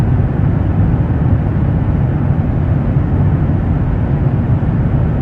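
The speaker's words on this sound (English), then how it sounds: "which are just the sound of an airplane" Steady, dense airplane engine drone, a constant broadband rumble heavy in the low end that holds at an even level throughout with no breaks or voices.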